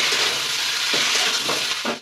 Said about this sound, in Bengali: এবার আমি এটা নাড়িয়ে নেব।